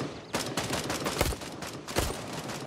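Pistol shots in the Gray Zone Warfare video game ring out in a short volley of sharp, loud cracks, with two heavier close reports near the middle and end.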